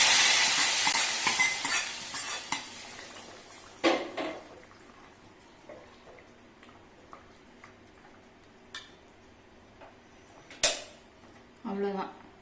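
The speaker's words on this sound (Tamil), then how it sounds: "இப்போ நம்ம தாளிச்சதை வந்து இந்த சாம்பார்ல வந்து ஆட் பண்ணலாம்." A tempering of mustard seeds, urad dal and curry leaves sizzles loudly as it is tipped into a pot of mutton bone sambar, the hiss fading into quieter crackles and a few sharp clinks of a pan and spoon.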